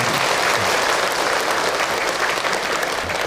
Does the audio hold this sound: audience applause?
yes